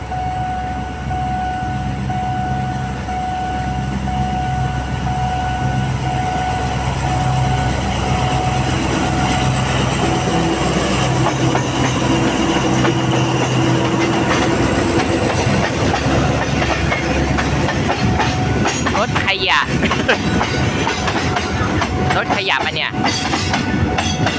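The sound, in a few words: diesel train passing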